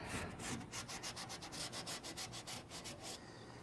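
Cloth rubbing quickly back and forth over a camper trailer's exterior surface with chipped paint, a steady rhythmic swishing of about a dozen close strokes with no talking.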